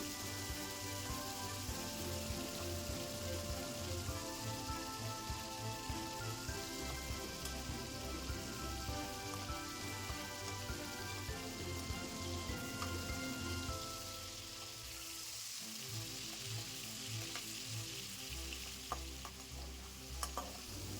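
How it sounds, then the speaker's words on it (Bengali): Prawns rubbed with salt and turmeric are frying in hot mustard oil and being turned over. A loud, dense, continuous sizzle runs throughout with stirring scrapes, easing slightly about two-thirds through. "আগেই নুন হলুদ মাখিয়ে রাখা চিংড়ি মাছ গরম তেলের মধ্যে দিয়ে এপিট ওপিট নাড়াচাড়া করি"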